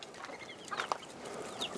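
Chickens cluck softly in a backyard chicken pen, a few short faint clucks and murmurs scattered over quiet outdoor ambience.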